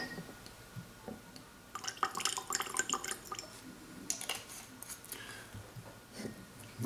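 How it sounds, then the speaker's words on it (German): A couple of drops of water go into a glass of Glenlivet 12-year-old Illicit Stills whisky, giving faint, soft dripping and light liquid patters with glassy clinks over quiet room tone, with no speech. "Ich tue jetzt trotzdem noch mal 2 Tröpfchen Wasser rein."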